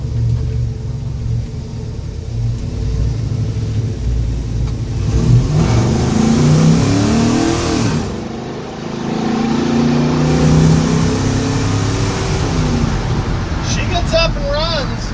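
LS-swapped 1968 Chevy C10 pickup rumbling loudly as the V8 revs under partial throttle, pitch rising and falling with a brief dip midway, a voice heard faintly beneath the engine.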